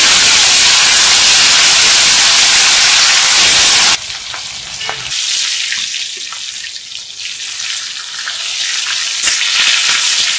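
Fish frying in a pan at home, a loud, dense sizzle that fills the first four seconds before dropping to a quieter, steady crackle with scattered pops and light clinks.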